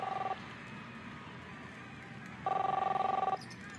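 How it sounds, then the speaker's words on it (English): Telephone ringing in the video game Captain Spirit, two bursts of a warbling electronic bell over a low background murmur, the second burst a bit louder and about a second long. "You don't hear the phone ringing off the hook?"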